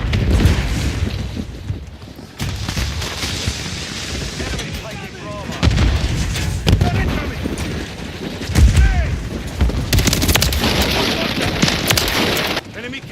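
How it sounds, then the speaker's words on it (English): Stun grenade blasts and gunfire in a tactical shooter video game, with repeated loud bursts and booms throughout, under radio-style voice callouts. "Stun grenade!"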